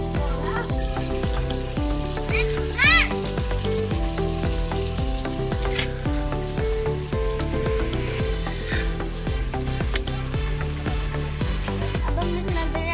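Meat sizzles and fries steadily in a pan for Sindhi biryani, a continuous loud crackle with repeated stirring scrapes over a background of music.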